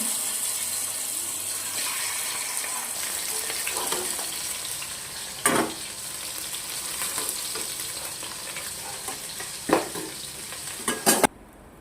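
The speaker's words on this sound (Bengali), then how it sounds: "এবার মাছগুলো ভেজে নেব।" Fish sizzles steadily in hot mustard oil, white oil and ghee, a constant bright crackle, broken by a few sharp clatters of a spatula against the pan.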